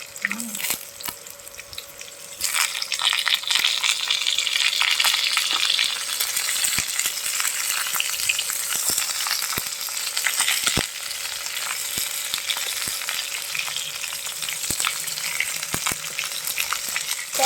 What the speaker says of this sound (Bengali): এর মধ্যে আমি দিয়ে দেব কেটে রাখা পটল